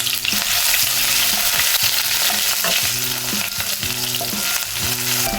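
Crushed ginger, garlic and green chilies frying in hot oil in a pan: a loud, continuous crackling sizzle with repeated rhythmic stirring scrapes, close up and without speech.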